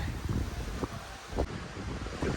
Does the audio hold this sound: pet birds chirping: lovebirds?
no